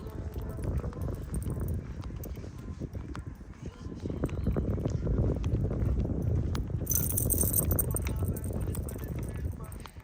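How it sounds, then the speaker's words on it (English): Hooves of a donkey clip-clop along a dirt trail near Lake Mendocino's Coyote Dam, a steady close run of footfalls with a rougher, denser patch in the second half. "a donkey."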